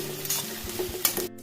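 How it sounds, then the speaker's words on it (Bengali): Chopped onions sizzle in a hot pan, a short burst of crackling with a few stirring clinks and scrapes. "পেঁয়াজ কুচি দিয়ে দিচ্ছি।"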